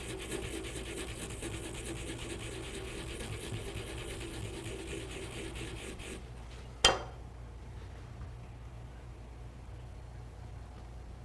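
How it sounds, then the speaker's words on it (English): Fresh wasabi root is grated on a grater, giving a soft, continuous rasping rub that stops abruptly, followed by a single sharp tap and then near silence. "I'm going to grate just a little bit more"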